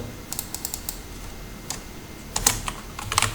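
Keys clatter on a computer keyboard during a VB.Net programming lesson: light scattered clicks, then a quicker burst of crisp typing toward the end, close and fairly quiet, with no talking.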